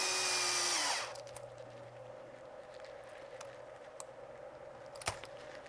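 A power screwdriver drives screws into a plastic RC car chassis for a Traxxas Sledge, a loud whirring burst lasting about a second, then quiet with a few faint clicks and taps.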